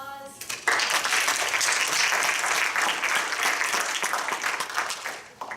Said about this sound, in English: just going to give them a round of applause